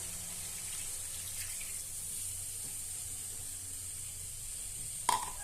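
About one and a half cups of water poured into a cooking pot of chicken adobo with string beans, a soft steady rush of running water with a short louder splash near the end.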